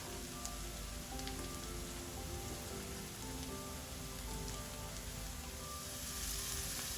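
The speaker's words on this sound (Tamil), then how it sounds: "ஒரு 2 நிமிஷம் நல்லா ஃப்ரை ஆகட்டும்" Onion, garlic, ginger, carrot and beans fry in a pan for egg fried rice, giving a soft, steady sizzle that runs evenly throughout with no voices.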